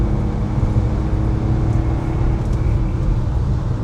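A BMW six-cylinder engine pulls hard at full throttle, a steady, dense low rumble with road and cabin noise that holds at a constant loud level throughout, with no talking.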